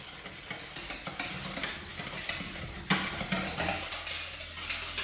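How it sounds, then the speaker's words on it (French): Wire whisk stirring yeast into lukewarm water in a mixing bowl for bread dough, a steady close scraping and swishing with small clinks of the metal against the bowl, one sharper knock midway. "On va tout simplement verser notre eau tiède sur la levure, on la délaye avec un fouet"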